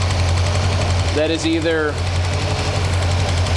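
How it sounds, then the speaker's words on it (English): Engine idling low with a rapid ticking, clacking rhythm from an exhaust manifold leak or clacking valve, loud and close, while someone talks over it. "exhaust manifold leak, clacking valve, or a combination of the two"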